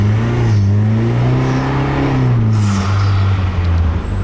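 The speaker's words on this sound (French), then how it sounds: "Et tu vas voir, on entend le turbo." Small two-seat three-wheeled car with a 4-cylinder 200 hp turbo engine, its steady engine drone rising and falling with revs and a faint turbo whistle on top, close and continuous without talk.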